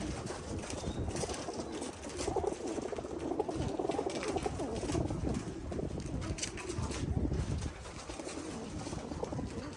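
Pigeons in a loft of female birds coo steadily at close range, their soft throaty calls blending with constant scuffling and patter of feet and wings throughout.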